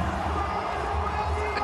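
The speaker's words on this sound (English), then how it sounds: "The Zooks are going mad in the crowd." A cricket crowd roars and cheers after a batsman hits a six in a Twenty20 match, a dense, steady wall of distant voices holding at an even level throughout.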